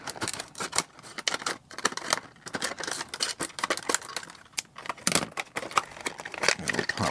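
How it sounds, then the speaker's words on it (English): Scissors snip and crackle continuously through the stiff plastic blister packaging of an older GreenLight die-cast car, with close, busy rustling and clicking throughout. "I'm going to go ahead and cut it open"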